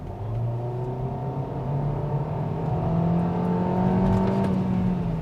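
A Hyundai Avante accelerates hard in sport mode on a clear Singapore road, its engine note rising steadily in pitch as it pulls, heard from inside the cabin as a continuous droning whir.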